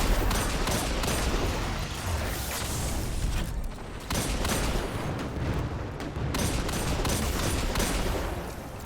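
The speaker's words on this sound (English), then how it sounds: "I'll throw a grenade on those dregs down there." A grenade bursts among enemies in Destiny 2, set in a Void lost sector, amid dense, continuous gunfire and blast noise with a brief lull midway before the barrage resumes.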